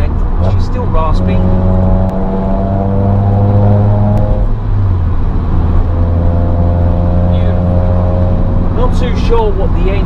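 A Volkswagen Lupo GTi engine revs up and down with a raspy exhaust, rising and falling in loud, close pitch sweeps that continue throughout.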